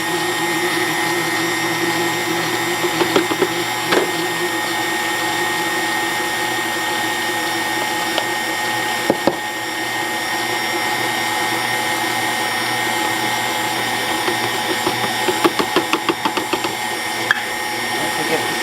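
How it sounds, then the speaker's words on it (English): A stand mixer kneads thickening calzone dough, its motor droning in a steady, loud whir with a few brief knocks and clunks scattered through the run. "in the machine, as it gets thicker, you're gonna hear the machine where like it's gonna need some help kneading"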